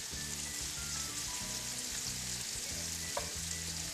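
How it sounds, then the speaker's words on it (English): Squash frying in a pan gives off a close, continuous hiss and sizzle, with soft stirring scrapes and a faint low hum beneath, and no one speaking. "I'm going to add the squash to this. And that's just going to stir around."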